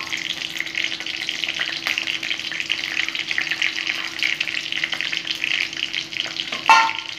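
Whole garam masala spices, cardamom, cinnamon, cloves, a dried chilli and bay leaf, crackling in hot oil for tempering a bhetki fish kaliya, a steady moderate sizzle ending with a sharp clatter, no talk.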